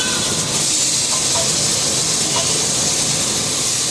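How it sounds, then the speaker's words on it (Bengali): Eggplant pieces dropped into a hot pan, a loud steady hiss of sizzling that continues without a break, with no talk. "এই যে ভিউয়ার্স আমি বাকি বেগুনগুলো দিয়ে দিচ্ছি"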